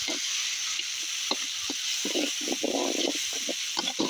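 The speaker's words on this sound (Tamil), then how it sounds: "வெங்காயம் வதங்கிச்சு இப்போ வந்து தக்காளி போட்டுப்போம் தக்காளி நல்லா வதங்கிக்கினே இருக்கட்டும்" Onions and tomatoes sautéing in a pan for mutton thokku, a soft steady sizzle with intermittent stirring scrapes and bursts, close and moderately quiet, with no talking.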